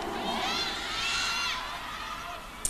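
Concert crowd at a show shouting a word together, a loud swelling roar of many voices that fades after about a second and a half.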